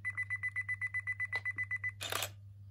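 A Nikon D3100 DSLR self-timer set to two seconds gives a steady run of about a dozen quick, even beeps, then the shutter fires with a short mechanical clack. Close and clear over a low hum.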